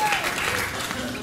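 A late-night talk show studio audience applauds in a steady broadband wash that runs the full short stretch, with a voice talking over it.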